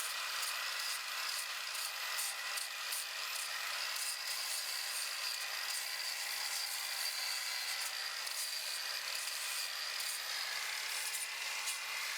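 Continuous rough rasping of 40-grit sandpaper rubbed back and forth over a chainsaw-carved wooden hawk or eagle, close up and steady throughout with no talking.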